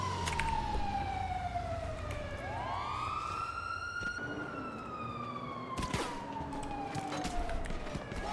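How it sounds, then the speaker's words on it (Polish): Police sirens wail through a chase in a video game, the pitch sweeping up and down in long rising and falling cycles, loud and continuous for the whole stretch with no talk over it. "dwa radiowozy na razie, zjedzie się cała komenda"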